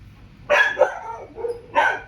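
A dog nearby gives two sharp barks about a second apart, with a brief whine between them.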